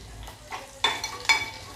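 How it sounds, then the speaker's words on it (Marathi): Masale bhat being stirred and sautéed in a pan with fresh coriander and crushed fresh coconut, giving soft scraping stirs and a gentle sizzle, with a few sharper utensil scrapes standing out near the end. "त्याच्यामध्ये थोडीशी कोथिंबीर घालायची आणि हे असं हलवून घेऊया परतवून छानपैकी"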